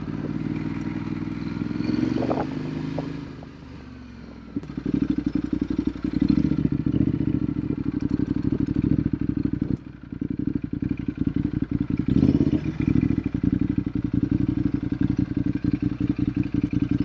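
A Ducati Hypermotard motorcycle ridden on the road, its engine droning loudly and steadily with a brief dip in revs early on, then a sustained rough, clattering roar with wind buffeting.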